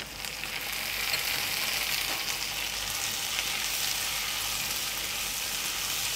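Tomatoes and onions cooking soft in a pan, giving a steady, fairly quiet sizzle that swells slightly after the first second and then holds even.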